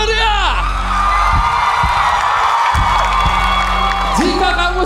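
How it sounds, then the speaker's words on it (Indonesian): Audience at the Indonesia's Got Talent 2022 grand final erupts in loud, sustained cheering and whooping with applause, a dense crowd roar filling the whole stretch while a voice rings out over it. "Saya mendengar tepuk tangan yang meriah."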